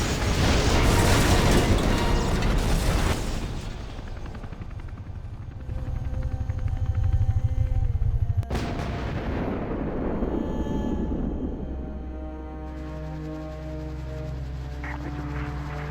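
An artillery fire-support strike in Ghost Recon Advanced Warfighter 2 hits as heavy, loud rumbling blasts, then decays into a long roar with a second sharp impact near the middle, fading under a low droning score.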